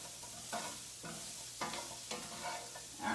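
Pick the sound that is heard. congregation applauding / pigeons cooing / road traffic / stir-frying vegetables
stir-frying vegetables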